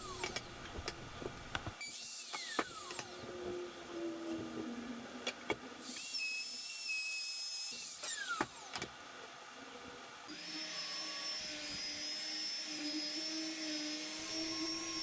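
A router fitted with a small quarter-round bit runs around the edge of a wooden cutting board, giving a steady high-pitched motor whine with several surges and pitch changes as it cuts, loud and without talk.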